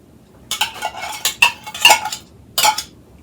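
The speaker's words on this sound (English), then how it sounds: "I've got a new spoon, so I'm going to give that a mix in there" A spoon mixing salsa in a bowl, close and clear, with a series of quick scraping and clinking strokes in short bursts separated by brief pauses, with no talking.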